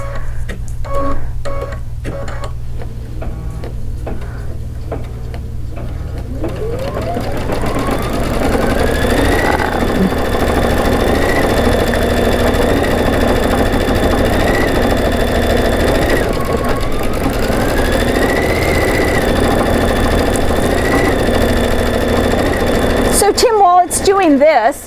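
An embroidery machine stitches a design with a steady, close mechanical whir and rapid needle chatter, rising in pitch as it speeds up and running continuously until a brief clatter near the end.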